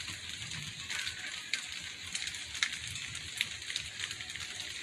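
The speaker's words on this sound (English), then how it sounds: "Of course, it's raining right now." Rain falling outdoors in the woods, a faint steady patter with scattered sharper drops striking nearby surfaces.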